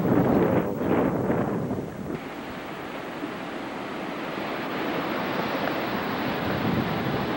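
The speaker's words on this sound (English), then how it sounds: "Ki'i Beach, less than 20 minutes from the trailhead." Surf at Ki'i Beach on Kauai, Hawaii: a broad, steady wash of breaking waves mixed with wind rumble, loudest in the first two seconds and then settling into a continuous hiss.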